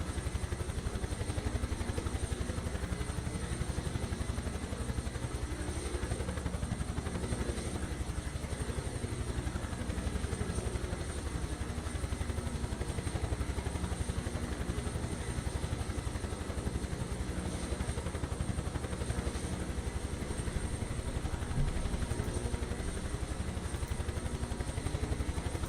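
A Huey helicopter in Microsoft Flight Simulator 2024 gives a steady, dense rotor and engine drone that rumbles loudly and continuously throughout, with a faint clattering texture and no voices.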